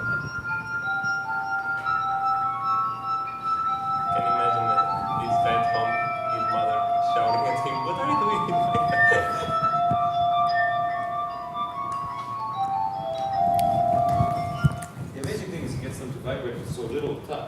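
A finger rubbing the rim of a crystal glass draws out a sustained, pure ringing tone that shifts in pitch and swells and fades, while people talk nearby.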